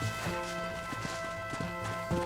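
Hooves clip-clop at a running pace in Red Dead Redemption on PS3 under a steady music-like drone, a rhythmic, moderately loud horse gallop.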